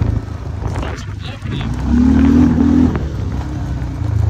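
A Chinese 500cc quad's engine rises into a brief droning rev at close range, rumbling under and between people talking.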